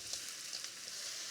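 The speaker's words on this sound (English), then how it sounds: "I'm gonna add some onions, a little salt to help sweat out those onions" Onions, garlic and artichoke sweating with a little salt in melted butter, a steady close sizzle and frying hiss that holds evenly throughout, alone with no talk.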